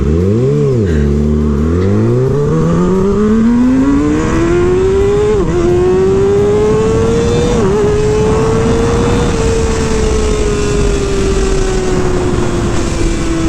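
A 2023 Kawasaki ZX-6R motorcycle launches on a drag strip pass, its engine revving up hard through the gears with brief dips at each shift, then holding a loud, sustained high-rpm wail, very close and continuous.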